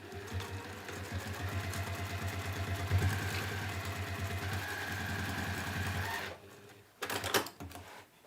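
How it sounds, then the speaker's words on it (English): A sewing machine stitches down the bound edge of a fancy washbag, a rapid, even mechanical chatter running for about six seconds, then a short separate burst after a pause, with no talk. "and sew that down"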